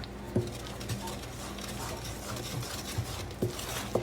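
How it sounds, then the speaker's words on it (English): Bar batter being stirred in a bowl, a soft, steady scraping with a few brief clicks of the utensil against the bowl, fairly quiet and close, with no talking. "I'm just gonna go ahead and stir this up"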